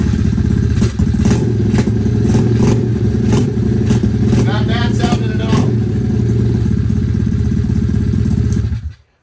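A Tao Motor DB20 107cc automatic kids dirt bike engine cold-starts and idles steadily and loudly close by with some mechanical clatter, then cuts off at the end.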